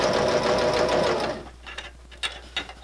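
A sewing machine runs steadily while stitching a narrow hem on a fabric grocery bag holder, a close whirring hum that stops midway and is followed by a few light mechanical clicks.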